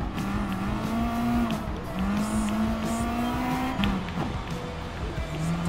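Rally cars racing in Gran Turismo Sport on a Gr.B rallycross circuit, including a Honda NSX Gr.B Rally car, with steady engine drone, rising and falling revs through gear changes and occasional tire noise, loud throughout without talk.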